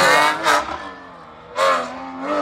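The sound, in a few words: Ford Fiesta Rally3 rally car driving special stage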